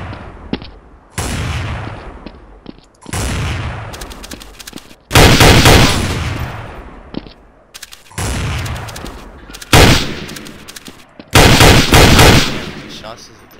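A sniper rifle in Counter-Strike: Source fires in rapid succession, with about seven loud, close shots at irregular intervals, each a hard crack trailing off into a short echoing decay.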